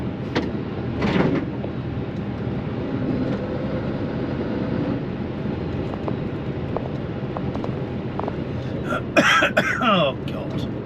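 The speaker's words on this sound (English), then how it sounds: "Oh God, blooming cough." A throat-clearing cough comes early over the steady rumble of a vehicle interior on a road, with someone talking in the background and a later clattering burst.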